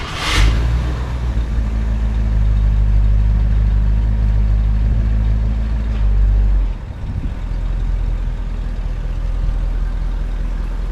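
Barn-find 1966 Thunderbird on its first test drive, its engine rumbling loud and close with a steady low drone that holds, then drops to a quieter idle-like rumble for the last few seconds.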